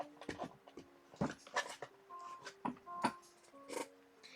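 A pet dog pants and whimpers close by in short, uneven bursts of breathy puffs and thin high whines, with brief pauses between them and no talking.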